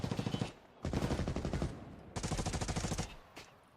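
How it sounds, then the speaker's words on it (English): Automatic gunfire in the video game Escape from Tarkov Arena during a tournament match, loud rapid bursts in three strings separated by brief pauses, with no talk. "Gunfire a little more steady from both sides this time"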